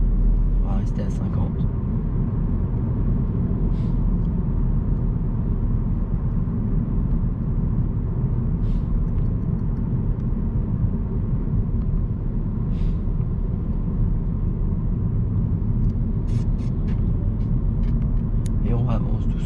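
A car rolls slowly at about 50 km/h during a driving lesson, giving a steady low road and engine rumble throughout, with a few faint higher ticks and clicks inside the cabin.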